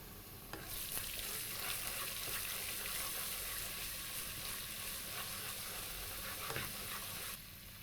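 Ginger paste and garlic paste fry in a pan, a loud, dense, continuous sizzle lasting almost the whole time with a few faint stirring knocks and no talking.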